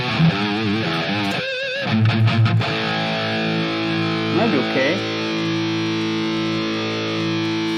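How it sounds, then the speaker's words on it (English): A Line 6 Pod XT guitar amp model through a Brit 4x12 greenback cabinet sounds heavily distorted, with sustained chords and a brief choppy strummed burst, close and loud; a voice speaks briefly over it. "here is a T75 Brit 4x12 cabinet."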